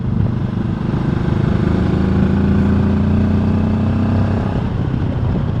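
A QJ Motor SRT 700 SX 2025 motorcycle engine on a damp autumn road, a steady loud drone whose pitch rises and then dips as the bike changes gear, with no talk.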